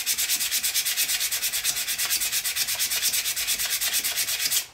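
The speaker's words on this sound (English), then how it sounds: "sand the opposite direction of what you were sanding just now with the 60 grit, or sorry, with the 80 grit" Sandpaper at 80 grit rubs back and forth along a wood turning in steady, rapid strokes, a close, continuous rhythmic scratching with no voices.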